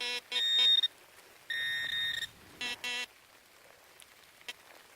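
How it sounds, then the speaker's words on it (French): Steady, faint rain hiss runs throughout, broken by bursts of loud electronic beeping tones in the first three seconds. "il pleut de plus en plus là"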